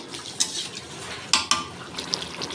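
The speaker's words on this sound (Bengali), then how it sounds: "ফোটা শুরু করে দিয়েছে, আমি ঢাকা দিয়ে দিলাম" A lid is set on a pot of simmering fish curry with ridge gourd. Three sharp metallic clanks ring out over a soft background bubbling and kitchen hiss.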